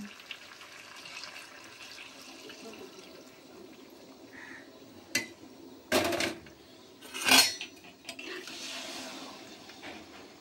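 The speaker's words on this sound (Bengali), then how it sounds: "এবার যে সেদ্ধ করেছিলাম সেই জলটা আমি দিয়ে দেব।" Boiled stock water is poured into a pot of mutton and potato curry in a few short splashing bursts, with quiet kitchen clinks and drips in between.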